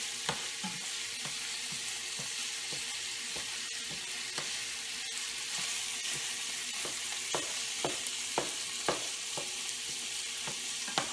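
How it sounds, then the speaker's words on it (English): Meat browning in a pan for a beef ragu, a continuous soft sizzle punctuated by regular clicks and scrapes of a utensil stirring, close and fairly quiet. "we'll go ahead and start stirring this around and start browning the meat"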